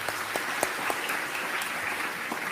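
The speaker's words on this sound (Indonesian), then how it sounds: "tepuk tangan." A crowd at a religious gathering applauds steadily: a continuous wash of many hands clapping, with a few sharper individual claps standing out, fairly loud and sustained throughout.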